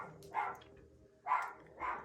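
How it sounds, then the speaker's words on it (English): Dogs bark three times in a loose rhythm, slightly distant and fairly quiet, with a pause before the last two barks. "I don't know what my dogs are barking at."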